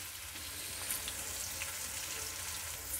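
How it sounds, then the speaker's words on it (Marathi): Okra (bhindi) frying crisp in oil, a soft, even, continuous sizzle heard fairly quietly throughout, without speech. "ते असं कुरकुरीत तळून घ्यायचं आपल्याला छानपैकी."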